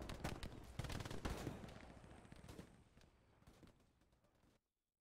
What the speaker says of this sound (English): Shots right to my side.